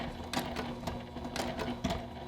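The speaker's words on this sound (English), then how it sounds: "we're going to pull this away and sew right off our pumpkin" A sewing machine stitches a scrappy quilted pumpkin pot holder with bias tape. The motor whirs in short close bursts with rhythmic needle clatter and brief pauses between runs.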